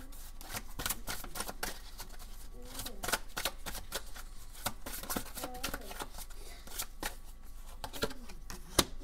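Tarot cards being shuffled and drawn up close, with a steady stream of rapid papery riffles and slaps that continues throughout, while someone speaks softly in French at moments.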